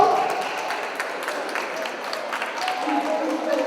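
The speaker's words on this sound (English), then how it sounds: "Could you give him a round of applause?" An audience at a Nigerian cultural event in the UK claps for a Nigerian footballer, a dense, steady patter of applause that lasts a few seconds, with voices mixed in.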